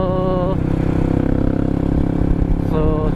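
Engine of a friend's motorcycle, recently repaired at a workshop, running steadily and close by on a cold rainy day, with a dense low rumble and a tonal hum throughout.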